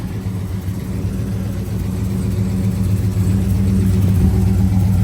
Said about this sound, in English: walk around video of the Chevelle running